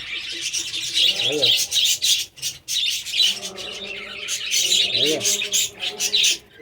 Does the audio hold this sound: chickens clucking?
no